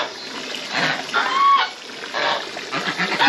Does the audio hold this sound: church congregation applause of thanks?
no